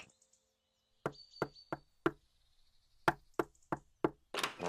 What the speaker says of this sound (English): Don't forget the secret knock.